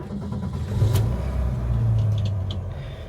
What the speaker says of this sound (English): Let's go ahead and start her up.